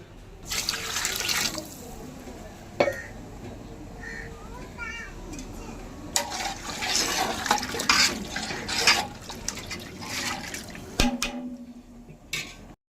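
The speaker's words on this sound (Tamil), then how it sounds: "நம்ம வந்து ஒரு கப் அரிசி எடுத்துருக்கோம் அதுக்கு வந்து ஒன்றரை கப் தண்ணி ஊற்றணும்" Water poured over a cup of raw rice for chicken biryani, a steady splashing pour running most of the clip with brief breaks, fairly close, with background noise and a few knocks.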